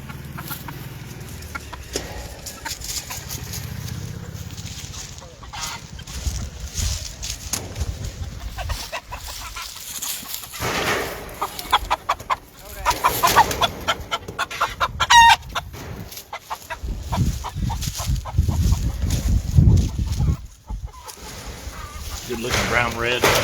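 Whitehackle brassback hens on a Kentucky gamefowl farm, with repeated clucking and rooster crowing around them while someone talks nearby, and rustling and handling noises rising in the later part.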